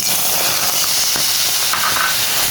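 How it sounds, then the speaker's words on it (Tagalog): Tomatoes sizzling in a dry pan without oil while cooking pork ribs sinigang, a steady close hiss with soft crackles, no talking. "Igigisa lang po natin ito na para madurog po siya"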